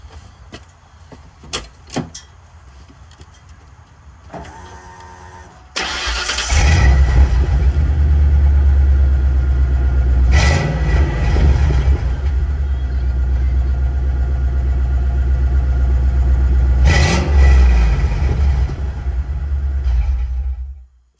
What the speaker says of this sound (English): True Duals, 2 40 series Flowmasters. We're going to crank this biatch. Let you guys hear it.